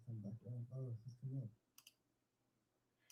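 Two quick, faint taps on a phone touchscreen follow a man's short spoken phrase, isolated clicks in a quiet room.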